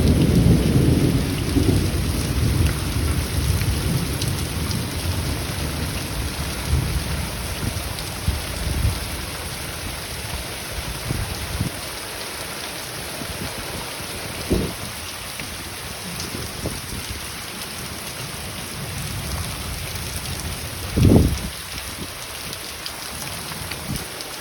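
Heavy rain pours steadily outside during a summer storm, a dense continuous hiss of drops hitting surfaces. Distant thunder rumbles now and then, with a sharper crack near the end.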